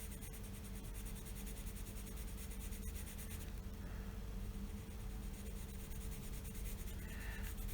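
Soft, steady scratching and rubbing of a colored pencil shading on paper, continuous and close, with faint background hiss.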